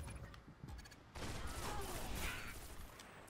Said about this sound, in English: the shotgun's really good at getting people one shot